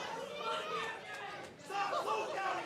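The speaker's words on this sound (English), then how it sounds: "you can hear this crowd as well after Jimmy Townsend leveled Killer Kross with that chair" Wrestling crowd at an Alpha-1 Wrestling show roaring after a chair shot to Killer Kross, a dense wash of cheering and shouting voices that dips briefly then swells again, loud and continuous throughout.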